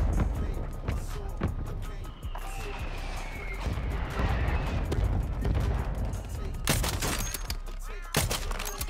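Gunfire in a battle royale trios match in Vondel, sharp scattered shots and bursts at mid distance, louder near the end, over ambient game noise.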